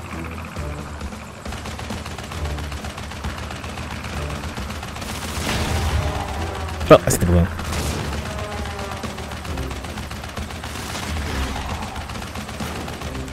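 Bursts of rapid gunfire while shooting at a plane in Crash Bandicoot 3: Warped, a sustained rattle under game music with one sharp louder crack near the middle, and someone briefly speaking over it.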